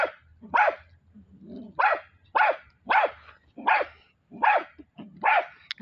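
A dog barks during a fight with a cat, giving about eight sharp, loud barks in a steady, evenly spaced run, close by, with a faint low rumble between them and no talking.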